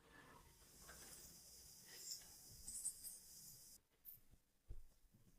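A pen scratches across paper as an equation is written out, with soft, faint strokes that come in short bursts and quiet pauses.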